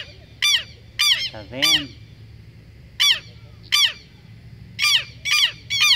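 A southern lapwing (quero-quero) calls from close by near its nest on the ground, giving a series of loud, harsh, repeated cries in short bursts with brief quiet gaps between them. A person speaks briefly.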